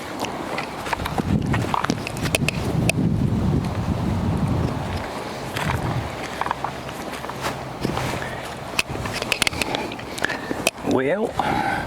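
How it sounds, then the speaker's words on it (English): Wind gusts blow across an outdoor woodland base camp, a constant rough rushing and buffeting that runs the whole time, with scattered knocks and a voice now and then over it. "Had to move it down out of the wind. It's pretty windy."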